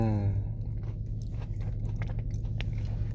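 Crunchy chewing and biting on a Crumbl chocolate chip cookie, close and steady through the clip, with a low hum underneath.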